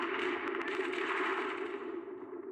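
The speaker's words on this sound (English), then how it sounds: "The deafening gunfire grows louder, gradually drowning out all the voices." Loud, echoing bursts of gunfire in the video game Zenless Zone Zero, a dense rattling volley with heavy reverberation that slowly thins out.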